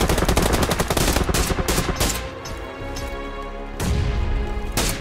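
Gunfire in the PUBG Lite video game, with rapid automatic bursts, a short pause, then another loud volley, all close and dense, with no talking.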